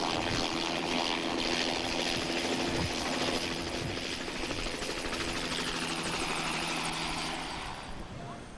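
A helicopter flies overhead during a BMW film shoot, chasing a new car; its broad, steady rotor and engine roar stays loud and continuous throughout, easing slightly at the end.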